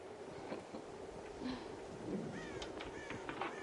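Crows caw repeatedly over a steady low rumble in a video game farm scene where they raid a corn silo, several harsh calls in quick succession toward the end.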